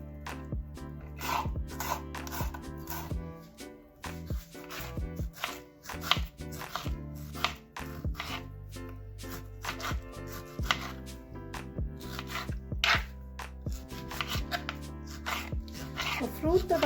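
Knife chopping onions, coriander leaves and green chilies on a board, steady close taps in quick runs throughout, underneath continuous background music.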